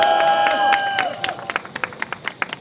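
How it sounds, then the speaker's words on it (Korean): Applause from attendees at an outdoor press conference, sparse distinct claps in an irregular rhythm that fade in after a sustained tone and a voice at the start. "다시 한번 장재원 박사님께 큰 박수 부탁드리겠습니다"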